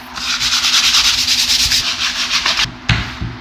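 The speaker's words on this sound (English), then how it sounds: "take some ordinary cheap sandpaper and sand most of it off" Cheap handheld sandpaper rubs back and forth across a stenciled wood floor plank in steady, close, raspy strokes, followed by a couple of brief scuffs and taps.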